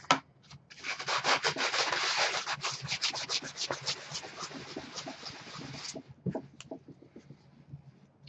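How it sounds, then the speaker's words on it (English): Flex and fill gap filler on EVA foam is sanded with a steady, close scrubbing rasp for about five seconds, then a few scattered short scrapes, with no talking. "You can sand that a little bit"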